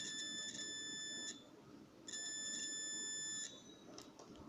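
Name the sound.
multimeter test beep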